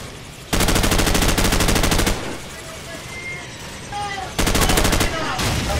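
Gunfire in the video game Call of Duty: two long bursts of rapid automatic fire, loud and close, separated by a quieter stretch of game ambience with a voice talking.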